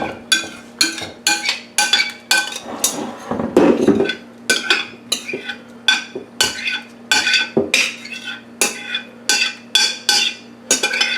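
Pickles being scooped out of a bowl in a kitchen, making a steady series of loud, close clinks and knocks against dishware with a low hum underneath and a brief shuffling rustle partway through.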